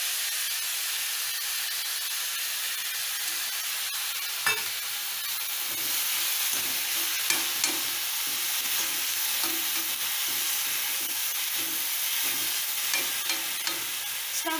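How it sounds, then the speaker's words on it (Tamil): Tomatoes and green chilies sizzle steadily in a hot pan, a continuous close frying hiss broken by soft scraping and stirring strokes, with no voices. "இப்ப நம்ம வந்து தக்காளி போட்டுப்போம். கூடவும் பச்சை மிளகாவும் சேர்த்துக்கோங்க."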